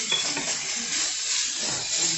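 Chorizo frying in a pan while being stirred and broken up: continuous close sizzling with scraping and clattering from the utensil against the pan.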